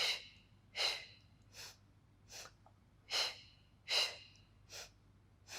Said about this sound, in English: We exhale. Inhale.